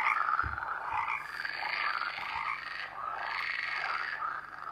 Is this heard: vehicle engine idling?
no